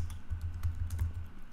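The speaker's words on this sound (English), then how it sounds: "I'm gonna do the first few steps by just typing them in." Rapid keystrokes on a computer keyboard while entering terminal commands on a Mac, a steady run of close, soft clicks over a low hum.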